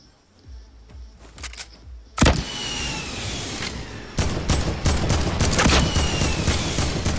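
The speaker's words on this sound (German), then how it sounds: "Auf mich wird geschossen." Gunfire in a video game shooter: sparse shots at first, then a sudden loud burst grows into sustained rapid fusillades that keep up to the end, close and dense, with no talk.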